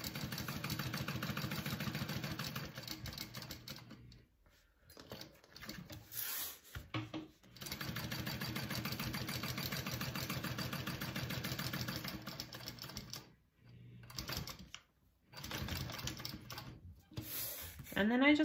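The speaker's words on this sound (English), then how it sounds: "keep sewing the rest of the way. So I do it all in one swoop." A sewing machine bastes the sides and bottom of a handbag, running in steady rapid bursts of stitching broken by a few short pauses.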